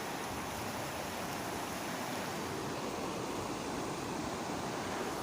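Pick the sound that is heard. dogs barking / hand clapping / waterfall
waterfall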